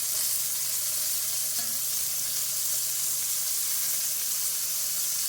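Pieces of meat browning in hot oil in a pan for Irish stew give off a steady, even sizzle that holds at a constant level throughout, heard alone without talk.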